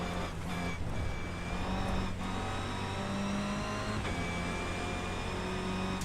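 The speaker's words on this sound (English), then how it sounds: "The sound, when you're sliding in the rain, you know, you don't get that. You hear the tyres sliding in the rain" Race car in the iRacing sim driving through rain, engine tones holding steady with tyre hiss and slides on the wet track, loud and continuous with brief bursts of spray.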